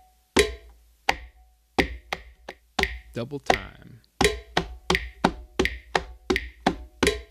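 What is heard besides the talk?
heel-tip strokes on a conga drum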